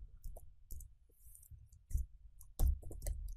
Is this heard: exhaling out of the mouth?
no